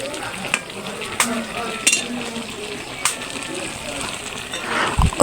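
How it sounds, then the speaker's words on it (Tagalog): Pork adobo sizzles in a pan while a utensil stirs it, with several sharp clacks and scrapes against the pan over continuous frying hiss and some nearby talking. "tamang halo-halo na lang ako din habang hinihintay namin maluto"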